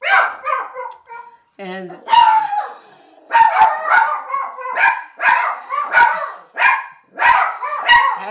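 Several dogs bark in loud, excited bursts, with yips and a short high-pitched whine, set off by a beeping smoke detector that needs a new battery; a person speaks briefly between the barks.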